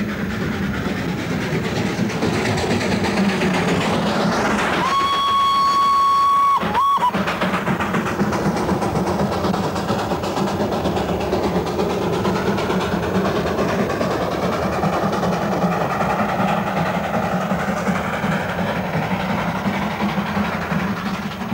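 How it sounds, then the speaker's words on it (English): The Darjeeling Himalayan Railway's 2-foot gauge mountain train rumbles steadily uphill with a continuous mechanical roar, a loud whistle blast sounding briefly early on, then the engine laboring onward. "the spectacular little toy train with its 2-foot gauge scrambling up the mountains"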